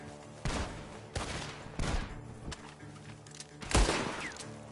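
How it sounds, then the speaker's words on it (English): Video game gunfire cracks out in several separate sharp bursts at irregular intervals, fairly loud against a low background, with no voices in between. "The gunshots are coming from that barn!"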